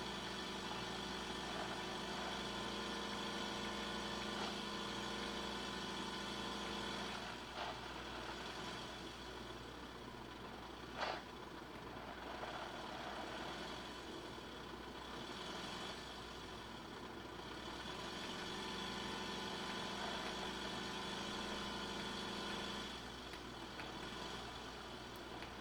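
The engine of an RV in the game RV There Yet, driven hard, is a steady mid-pitched drone that rises and falls slightly through about twenty-five seconds, with a brief knock partway through and no talk.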